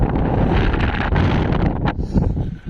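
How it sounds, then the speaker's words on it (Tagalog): Strong wind roars steadily across the microphone at a mountain view deck in Dipaculao, Aurora, a dense, rushing blast that stays loud throughout with slight gusting swells. "lamig lamig ang simoy ng hangin"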